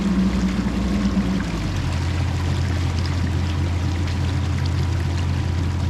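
Water rushing out of a 72-inch culvert pipe just unplugged by a CAT 420F backhoe, a steady loud gushing flow over a low engine drone that drops in pitch partway through, with no talk.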